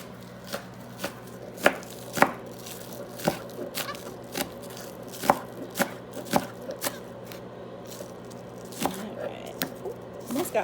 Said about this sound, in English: And then I'm gonna cut up the greens